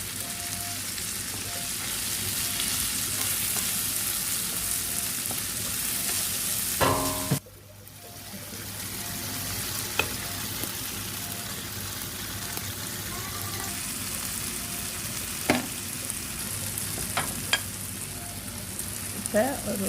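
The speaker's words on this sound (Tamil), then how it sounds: "இப்போ எல்லாம் நல்லா கலந்து வதங்க விடுறேன்." Squid with tomatoes, onions and salt sautés in a pan under a continuous sizzle, broken by a brief pause and then scattered spoon-on-pan clacks and stirring scrapes as the mixture is turned.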